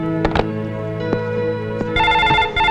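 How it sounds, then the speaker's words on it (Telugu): A landline telephone rings indoors, with a ringing burst near the end over a quiet room hum and a few soft knocks, fairly close and without speech. "ప్రొద్దున్నుంచి ఫోన్ మోగి మోగి విసుగు తెప్పిస్తుంది"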